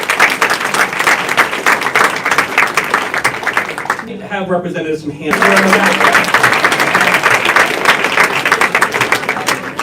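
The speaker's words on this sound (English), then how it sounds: "So we'd love to give a round of applause" An audience at a teacher-of-the-year announcement event gives a loud, sustained round of applause, briefly broken by someone speaking into a microphone before the clapping resumes.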